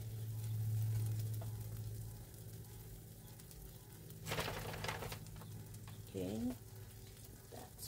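A cheese wrap sizzles in a pan over medium-high heat, a soft steady frying hiss heard close, with a faint scrape or stir partway through and no talking.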